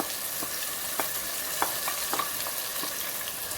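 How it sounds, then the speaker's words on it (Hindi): Ground tomato paste frying in a pan for a boneless chicken handi, giving a steady close sizzle with a few faint stirring clicks and no speech. "अब इसमें हम अपने टमाटो पेस्ट डाल देते हैं।"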